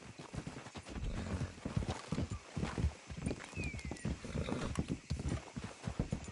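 Steady clip-clop of horse hooves trotting in a video game, rhythmic and continuous, with a brief whinny-like sound and faint background ambience.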